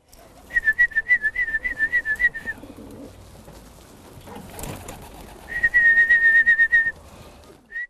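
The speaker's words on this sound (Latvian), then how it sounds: "Tāpēc tiek uzskatīts, ka balodis ir miera putns." Pigeons call in two bursts of rapid, rhythmic warbling, one near the start and one after a pause, over faint background rustle.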